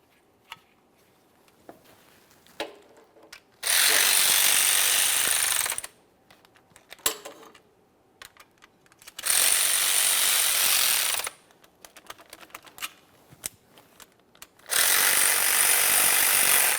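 A power tool drives mounting hardware on a 2011-2021 Jeep Grand Cherokee 3.6L V6 transfer case shift motor in three loud bursts of high-pitched whirring, each about two seconds long. Quiet clicks and handling noises fill the gaps between them.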